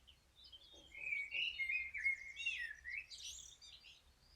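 A bird calls in a series of bright chirping, warbling notes, fairly close, rising and falling over a few seconds against a quiet background with a faint low hum.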